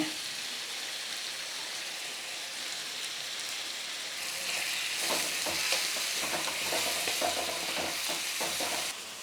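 Chicken liver frying over a medium flame in a pan, a steady close sizzle with stirring scrapes and clicks growing busier in the second half, with no talking.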